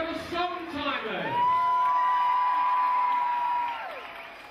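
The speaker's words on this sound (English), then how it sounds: "Boys and girls, clap and cheer and scream very, very loud." An audience at a Songtimers show at Grosvenor House claps, cheers and screams loudly, the crowd noise swelling quickly and then carrying on in a long sustained roar with high whoops rising above it.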